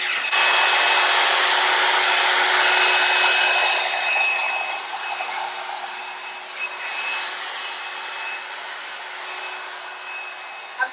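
L'Ange hair dryer blowing on long hair, a loud, steady whooshing motor hum with a fixed whine that eases slightly in level as the dryer moves, running alone without talk.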